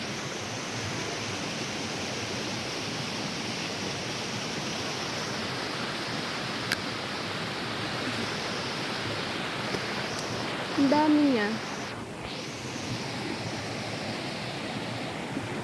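Steady broadband rush of river water flowing mid-river, continuous and fairly loud throughout, with a person speaking briefly over it.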